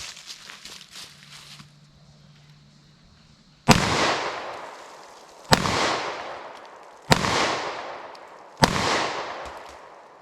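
Four loud, sharp gunshots from a .40 Smith & Wesson pistol firing 165 grain HST rounds into a pumpkin, spaced about two seconds apart, each with a ringing outdoor decay, after a quieter stretch of faint handling noise.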